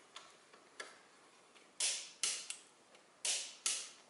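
A torque wrench tightens a driveshaft bolt on a Toyota Corolla, giving faint ratcheting ticks followed by four louder, sharp clicks in two pairs, close up in a quiet workshop.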